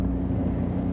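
An Avon Seasport luxury tender by Zodiac motors through the water, its engine a low, steady rumble heard up close with wind and hull noise mixed in, and no voices.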